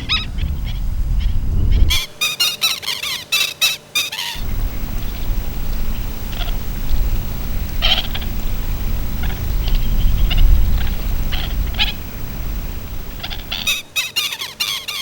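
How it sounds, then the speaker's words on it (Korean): Shrill, repeated black-winged stilt calls ring out in rapid bursts, loud and close, at a breeding site in Cheonsu Bay, Korea, over a steady rush of wind and water. "호사도요를 쫓아내려는 장다리 물대새의 울음소리가 요란하다."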